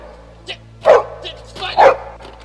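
A dog barks twice loudly and close by, with faint softer yips between the barks.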